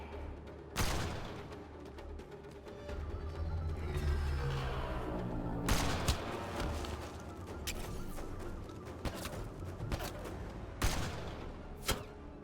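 Gunfire in the video game Mass Effect: Andromeda, with scattered sharp shots and louder bursts spread through a busy battle scene at moderate distance.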